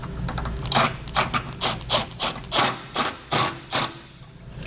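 Self-tapping screws tightened with an 11mm socket and wrench while mounting a Demco base plate on a 2017 Jeep: about ten close, rhythmic rasping strokes, evenly spaced, with brief pauses between.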